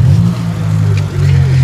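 On a street near a hotel in Tenerife, a car's engine drones loud and close, then dips and swells as it passes, with a person talking over it.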